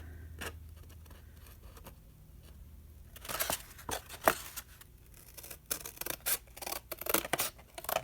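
Scissors cutting a line along the spine of a budget handmade journal, a series of sharp crisp snips and paper rustles, close and fairly quiet, with no voice over them.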